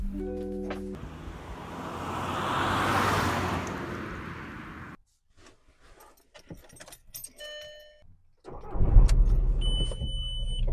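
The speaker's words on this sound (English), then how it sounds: "So I turned on the tractor-powered Polo to take it for a drive" A 1.9 TDI diesel Volkswagen Polo: a vehicle swells past over several seconds, keys jangle in a near-silent stretch, then the diesel engine rumbles up close and fairly loud at the end.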